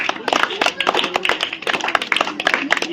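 Scattered hand claps from a classroom of students applauding a spelling test score, irregular and fairly close, with voices murmuring underneath.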